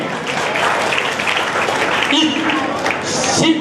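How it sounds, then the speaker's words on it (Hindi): Loud, continuous clapping from a large crowd welcomes guests at a community talent-honouring ceremony in Bhilwara, a dense steady roar of hands with faint voices mixed in. "एक बार जोरदार तालियों से इनका स्वागत करें।"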